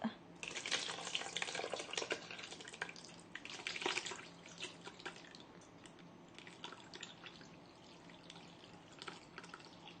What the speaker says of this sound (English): We're gonna pour it to the cheesecloth.